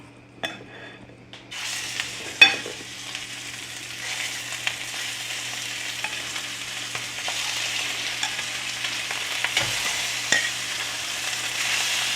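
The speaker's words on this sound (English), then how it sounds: "Okay, so I can begin to cook on the meat." Pork tenderloin searing in a hot pan: a sharp clatter as the meat goes in, then a loud, steady sizzle that builds and holds, marked by occasional small crackles and a utensil tap.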